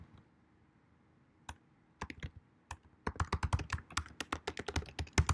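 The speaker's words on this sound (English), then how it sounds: "We just type in our email address." An email address being typed on a computer keyboard while configuring Git: sparse keystrokes at first, then a rapid, steady run of crisp clicks, close and clear, with no talking.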